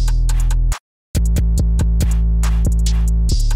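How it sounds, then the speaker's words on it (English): A plugg-style beat plays loud and up front: a long, booming 808 bass under sharp snares, a crash and ticking hi-hats. It drops out briefly near the start, then the bass and drum pattern return. "So the whole drum pattern sounds like this."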